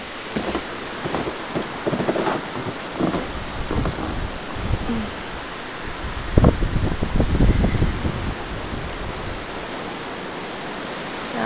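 Strong wind gusts roar and rush steadily ahead of a big winter storm on a snowy day, with a louder swell partway through and no voices.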